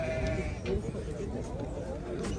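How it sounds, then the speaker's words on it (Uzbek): Sheep bleat at a livestock market in Bishkek, a short bleat standing out against crowd murmur and people talking nearby. "Qo'ylarni qarang."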